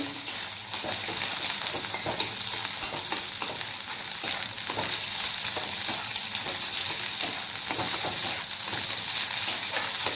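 Eggs fry and are stirred in a hot pan while making Maggi noodles with egg, a steady loud sizzle with a bright hiss and scattered scraping clicks of the spatula throughout.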